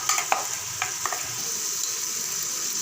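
Close, steady sizzle of ginger and garlic frying in a pan, with a few light scraping clicks from stirring early on.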